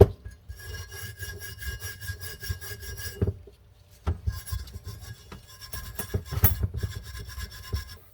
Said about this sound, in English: it's going to take too long to sit here and rub all this stuff off because the razor blade's not taking it off nicely